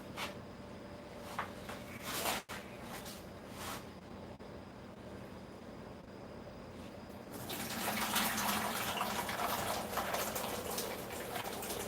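Liquid pours into a goat mold, starting with scattered drips and small splashes, then turning into a louder, steady gushing stream for the last few seconds.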